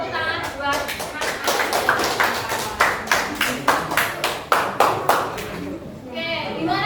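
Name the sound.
clapping for a student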